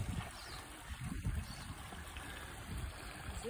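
Water in Ward Creek rushes steadily outdoors as a broad, continuous wash of flowing water, fairly close and with no talking over it.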